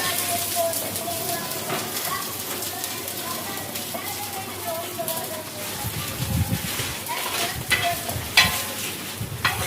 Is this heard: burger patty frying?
yes